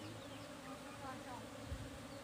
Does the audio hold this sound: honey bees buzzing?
yes